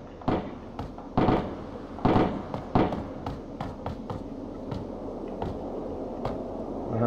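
Sharp gunshot cracks from the video game Ring of Elysium, in irregular bursts and single shots at varying distance, some loud and close, others fainter.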